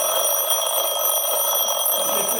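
A ringing alarm clock sounds loud and near, a continuous shrill electronic tone held for the whole moment with no talk.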